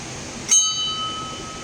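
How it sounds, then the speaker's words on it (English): An old traditional Indian bell at a tropical botanic garden, struck once for a sharp metallic ding that rings on with a clear, slowly fading tone, close and alone. "here I am going to ring the old traditional bell"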